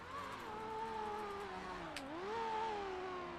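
A truck pulling away in a video game gives a steady engine hum whose pitch dips briefly and then climbs again. It sounds faint and smooth, with a short click partway through.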